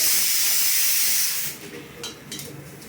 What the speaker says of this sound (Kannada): ಒಂದೆರಡೇ ಬಟಾಟಿನ ಕುಕ್ಕರ್ ಕಚ್ಕೊಂಡಿದ್ರಿ